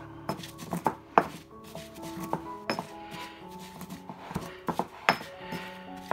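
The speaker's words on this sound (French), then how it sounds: "on va de nouveau mélanger l'ensemble" A herb, mustard and bourbon marinade is stirred and mixed, giving a quiet, irregular series of clinks, taps and scrapes of utensils against a bowl with no talk.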